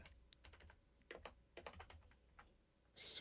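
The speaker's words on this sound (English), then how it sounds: "I'm bad at typing." Quick, uneven keystrokes on a computer keyboard come in bursts of taps and pauses, fairly close, with a louder clatter at the very end.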